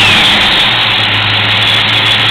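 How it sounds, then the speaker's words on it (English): A Ford Mustang Fox Body coupe with a stick shift and a new clutch, engine running at a steady, loud idle. It is close by and continuous, with a low rumble and no talking. "it starts right up and runs"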